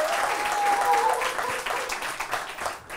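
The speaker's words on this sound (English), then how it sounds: "Another round of applause" Studio audience at a comedy show breaks into steady applause, clapping filling the room for the full stretch with a faint tonal note early on and scattered crowd noise beneath.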